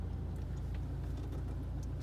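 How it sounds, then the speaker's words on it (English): A 2016 Toyota Hilux SR5 engine idles steadily, a low, even rumble that holds constant throughout with no revving or other sounds. "The car is currently running."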